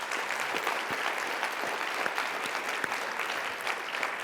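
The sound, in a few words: audience applause for convention volunteers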